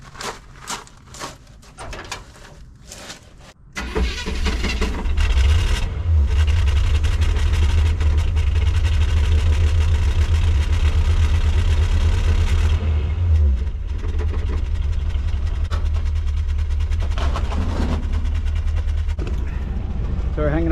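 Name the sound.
Chevrolet C10 truck engine starting and trying to drive off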